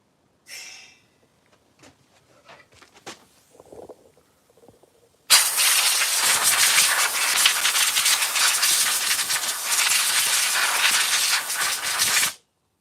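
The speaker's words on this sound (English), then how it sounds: "Let me just open up the air tap." Compressed air bursts from an opened air tap on a Vevor compressor in a workshop: after a few quiet handling clicks, a loud, close, steady broadband hiss starts suddenly and runs for about seven seconds before cutting off.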